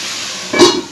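Chicken being sautéed in a pan gives a short burst of sizzling hiss over a low steady background, loud and close.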